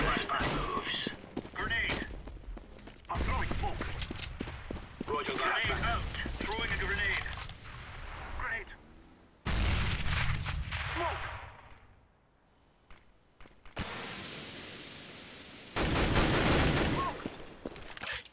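Gunfire bursts from Counter-Strike on the de_mirage map, sharp repeated shots and clusters of rapid fire amid game ambience, with a voice talking over much of it.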